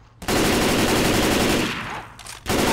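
Rapid automatic gunfire from shooting in Left 4 Dead 2 roars in a loud, sustained close burst, briefly easing near the end before firing resumes.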